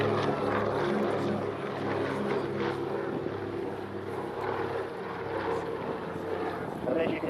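A military aircraft takes off at the RAF Cosford Air Show with a loud, steady engine and propeller roar that fills the clip, while a commentator's voice is partly heard beneath it.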